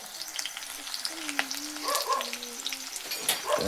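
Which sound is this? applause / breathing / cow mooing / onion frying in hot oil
onion frying in hot oil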